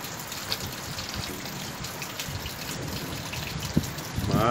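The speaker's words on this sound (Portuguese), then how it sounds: "Olha o bueiro como joga água para cima." Rainwater gushes from a flooded storm drain during a storm in Porto Belo, Santa Catarina, a steady continuous splashing and trickling wash with rain pattering throughout, fairly close and even in level.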